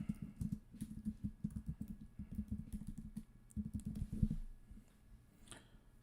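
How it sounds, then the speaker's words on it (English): Rapid clattering keystrokes on a computer keyboard as a search is typed, close and steady with brief pauses between bursts, no talking. "Type in Mike D'Antoni."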